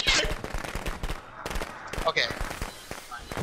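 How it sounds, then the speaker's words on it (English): Rapid crackling bursts of fireworks in Friday the 13th: The Game, dense popping in uneven clusters, with a voice speaking over the bangs. "I thought I put the fireworks right next to the door, but I guess I threw them ahead."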